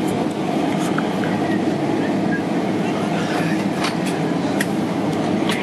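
An American Airlines Boeing 767-300ER taxis after landing in Miami, heard from inside the cabin as a steady, loud rolling rumble with occasional rattles and knocks, and faint voices in the background.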